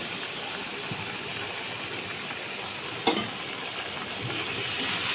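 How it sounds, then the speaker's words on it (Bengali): Potatoes, soybeans and shrimp are stir-fried with spices in a pan, giving a continuous close sizzle with scraping stirs, a sharp utensil knock partway through and a louder hiss near the end. "এবার সব একসাথে মশলার সাথে ভালো করে কষাবো"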